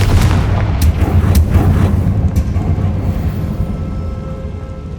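A Confringo fire spell blasts in the Hogwarts Legacy video game, a loud, booming burst with a deep rumble and a few sharp crackling hits that slowly fade over several seconds, with no talk.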